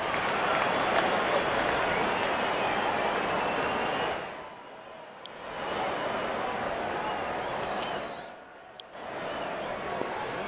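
A cricket stadium crowd roars and applauds Shubman Gill's double century, a loud, dense wash of cheering and clapping that swells, dips briefly twice, and returns, with a broadcast commentator's voice faintly under it.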